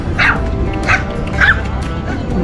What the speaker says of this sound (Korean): 강아지다.